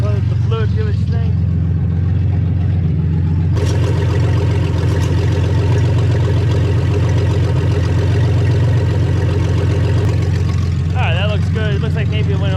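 A car engine idles steadily during warm-up after a radiator replacement, its constant low hum running throughout beneath someone talking.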